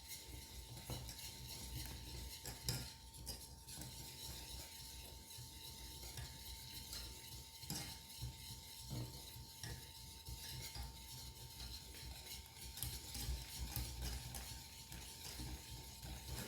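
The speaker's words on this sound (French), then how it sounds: "je viens ajouter hop, le beurre et j'ajoute morceau par morceau" Butter pieces stirred into hot caramel for salted butter caramel in a pan: continuous scraping and stirring with faint clinks of utensil against the pot, steady and close, no talk.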